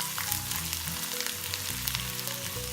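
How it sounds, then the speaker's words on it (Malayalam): Finely chopped onion sizzling in hot oil in a pan, a dense continuous crackle and spatter close up, with no voices over it. "എണ്ണ ചൂടാവുമ്പോൾ അതിലേക്ക് ഒരു സവാള പൊടി പൊടിയായി അരിഞ്ഞത്"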